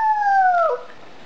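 A person imitates a rooster crowing with one loud, close, sustained call that slides slightly downward before breaking off into near silence.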